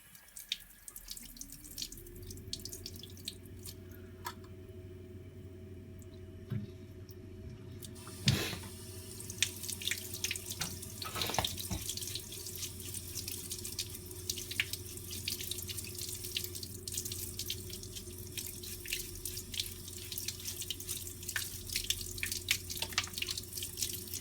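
A foam filter from a clogged Panasonic upright vacuum cleaner rinsed under a running tap: a steady hissing stream of water with splashy surges and drips as the sponge is worked, close and continuous, no talk.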